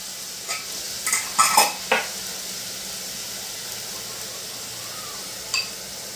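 Village-style dambha vegetable curry gets its tempering in hot oil: a soft continuous sizzle underlies a quick cluster of loud stirring clatters against the pan, then one more scrape near the end.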